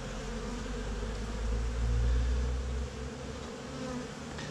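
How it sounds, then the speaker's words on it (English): Dense, steady buzzing of many honey bees clustered in a brand new hive while building comb, a close continuous hum that swells slightly midway with no voices. "it's brand new and the bees are hanging all over it."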